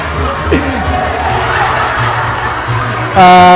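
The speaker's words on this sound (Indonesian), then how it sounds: "tepuk tangan sekali lagi untuk Mas Linggar" Audience applause at a psychology faculty's send-off ceremony for graduating students: a steady wash of crowd clapping mixed with scattered voices and light laughter, ending as music comes in loudly.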